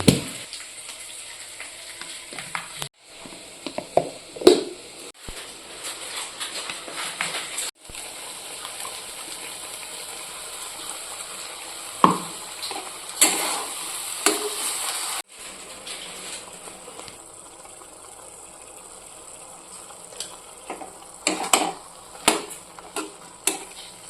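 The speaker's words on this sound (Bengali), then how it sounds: "এখন এই যে ডিম ভেজে নেব" Eggs frying in a pan for a spicy egg curry, a faint continuous sizzle broken by sharp clinks and spatula scrapes, close but quiet, with no talking.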